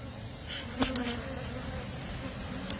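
Honey bees humming at an opened hive box, a steady close drone with a few sharper buzzes as individual bees pass near, and no talking.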